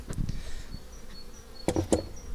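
A steady insect buzz of honey bees at a hive fills the background, with a few louder close passes and brief knocks near the end.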